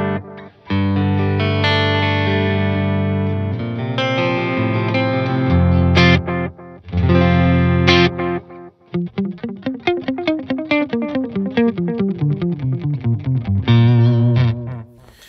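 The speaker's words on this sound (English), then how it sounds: "let's move across to delay so you can hear what's going on there." An electric guitar plays through a Keeley Caverns reverb/delay pedal set to delay, first with long sustained chords trailing off into echoes and then with a fast picked run whose repeats stack up; loud, close and without talking.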